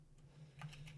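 A few quiet keystrokes tap on a computer keyboard while typing in the vim editor, faint clicks near the end over a low steady hum.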